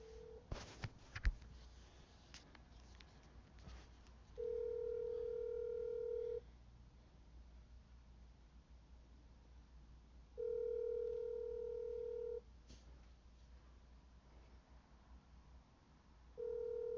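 A telephone dial tone hums, then dialing tones and two-second ringback beeps repeat at regular intervals. The sound is faint and clean, with no talking.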